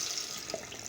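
Water pours steadily from a tap into a dish being filled for steaming vegetables in a microwave, a short, even, close splashing hiss.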